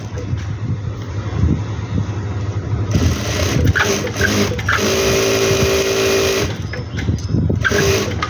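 A sewing machine stitches a sleeve hem in a steady, loud mechanical whir with a rattle running beneath it, close to the mic, while a voice talks faintly at times.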